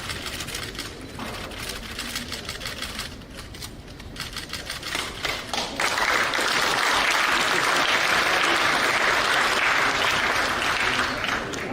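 Lively applause from invited guests at a state medal award ceremony, starting fairly light and mixed with clicks, then swelling into loud, dense, sustained clapping for the rest.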